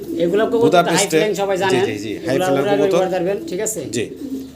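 Budapest fancy pigeons cooing at a pigeon sale, soft low throaty coos close by, mostly buried under someone talking continuously.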